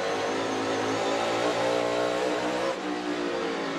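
NASCAR Cup race car engine at North Wilkesboro, loud and close, a sustained roaring drone with the tires spinning down the straightaway, steady then dipping briefly near the end.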